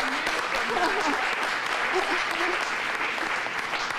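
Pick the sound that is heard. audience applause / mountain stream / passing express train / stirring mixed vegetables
audience applause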